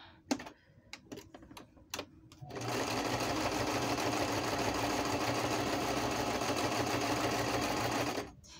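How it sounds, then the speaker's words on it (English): A sewing machine stitching through packing paper, heard first as a few sharp clicks and taps, then as a long, loud, steady mechanical whir that stops abruptly near the end. "as I'm sewing, I'm really not doing a completely straight line"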